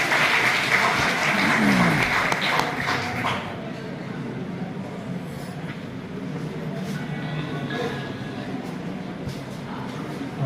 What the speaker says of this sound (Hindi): देवराज का भी तालियों से स्वागत करें।